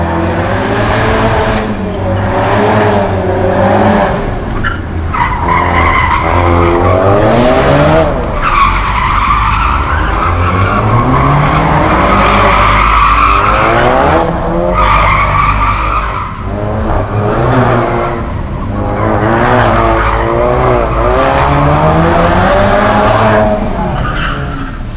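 A Ford Focus RS hatchback with the 2.3 EcoBoost engine and four-wheel drive skids hard, its tyres squealing loudly and continuously over the roaring engine for the whole stretch, with no talking.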